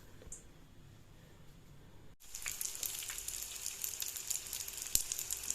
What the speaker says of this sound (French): je vais enchaîner et faire la première friture